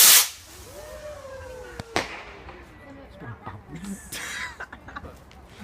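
Fireworks on the fifth of November: a sharp crack near the start, then whistling, rising-and-falling streaks and scattered pops and crackles at moderate distance, with a few more bangs later.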